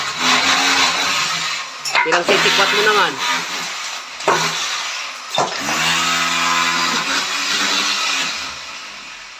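A power drill whirs during a house renovation, its motor whine rising and holding in long steady runs with brief pauses, loud and close under a person talking.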